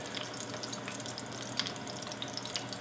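Steaks sear in a hot pan with a steady, close sizzle and a few sharper crackles and pops, with no talking.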